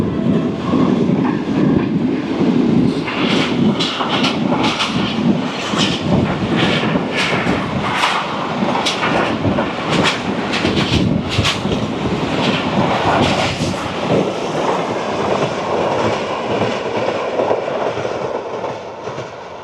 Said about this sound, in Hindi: ये आ रही है 42 डाउन कराकरम एक्सप्रेस